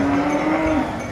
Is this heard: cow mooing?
yes